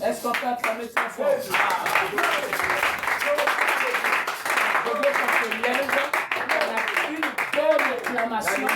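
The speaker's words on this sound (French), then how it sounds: "Est-ce qu'on peut acclamer très fort?" Church congregation clapping and cheering loudly during a service, rhythmic hand claps mixed with raised voices throughout, with people talking and calling out over the applause.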